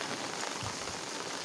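Heavy rain pours steadily onto surfaces near a drain, a dense, unbroken hiss of drops that stays loud and even throughout, with no voices.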